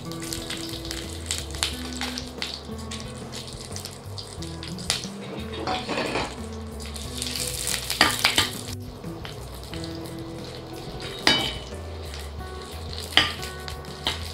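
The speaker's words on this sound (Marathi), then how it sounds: "आता आपण हे जे तेल राहिलेलं आहे त्यातच आपण आता ह्या मिरच्या तळून घेणार आहोत।" Green chillies frying in leftover oil for a sweet and spicy Goan raw mango pickle: a continuous close sizzle with stirring scrapes and occasional clinks of a utensil against the pan, louder bursts coming now and then.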